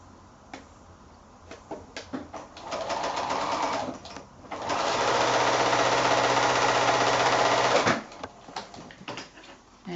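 A sewing machine stitches rows of novelty 5-inch quilt squares together: two sustained runs of steady mechanical whirring, the second longer, separated by quieter handling clicks and fabric rustle.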